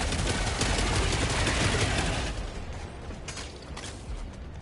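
Sentry turrets in Helldivers 2 firing a loud, dense mechanical burst that ratchets on, then thins out into scattered distant shots and clatter.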